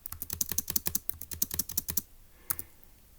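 Fast typing on a computer keyboard, a quick run of close, crisp keystrokes for about two seconds, then a pause and one last isolated tap.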